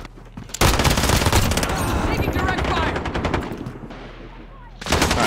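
FiNN LMG gunfire in Modern Warfare gameplay: a loud, sustained automatic burst rattling for several seconds, then a brief pause before firing resumes, with a voice talking at times.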